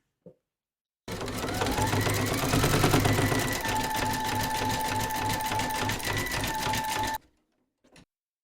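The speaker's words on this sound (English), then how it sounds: "load your matching bobbin and thread colour for the satin stitching around the edge of the glasses case into your machine, and then stitch round number 8" Embroidery machine satin stitching the edge of a glasses case in light brown thread, a steady close mechanical whirring hum with rapid needle chatter running about six seconds alone, then stopping.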